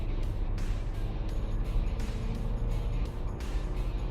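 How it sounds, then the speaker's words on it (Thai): A 2009 Mercedes-Benz W204 C200 Kompressor accelerates to overtake, heard from inside the cabin as a steady, loud engine drone mixed with road and wind noise. "มาครับเร่งแซงครับ"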